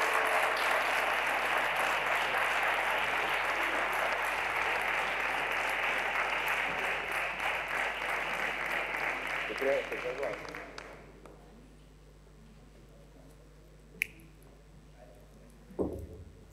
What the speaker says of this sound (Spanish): Fuerte aplauso para don Benito Trujillano Mena.